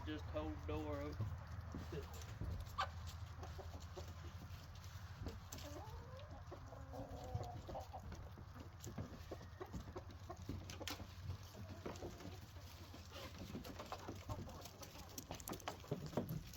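Chickens clucking inside a shed where their feed is kept, scattered clucks and calls at moderate distance over a low steady hum, with a person talking at times.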